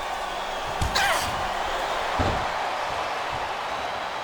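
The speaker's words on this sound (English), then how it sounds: "This capacity crowd is making their opinions known tonight" A large crowd fills a WWE wrestling arena at Survivor Series with a dense, constant roar, and a couple of dull thuds from the ring come through the noise.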